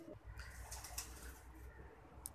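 Soft, low cooing from a male pigeon murmurs close by, faint and throaty, with a light flutter of movement near the end.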